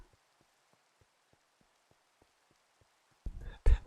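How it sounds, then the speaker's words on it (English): Rainfall in the video game Minecraft: faint steady patter with soft ticking drops throughout, then a couple of louder close bursts near the end. "Morning rain in Minecraft."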